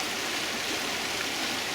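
Floodwater of Poway Creek running high and bank to bank after winter storms, a steady broadband rushing roar that stays constant and fairly close with no voices.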